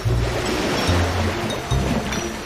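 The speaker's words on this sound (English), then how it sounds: "The water's flowing down the drain." Water rushing and gurgling down a drain in a flooded house in a children's cartoon, a steady dense wash with low churning pulses surging and receding, loud and close, without any talk.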